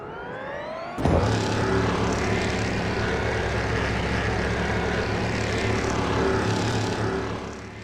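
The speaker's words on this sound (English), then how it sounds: "they start on just the electric engine, and as they get going, the combustion engine ignites" A hybrid prototype race car in Le Mans Ultimate: the combustion engine starts abruptly after a near-silent electric opening, then holds a loud, steady droning roar with layered tonal harmonics through to the end.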